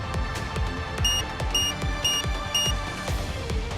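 An excavation bomb alarm in the video game Nikke, a rapid repeating electronic beep over a thumping, busy game soundtrack.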